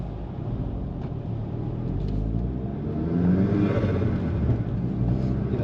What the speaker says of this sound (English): the turbo sounds different to the flutter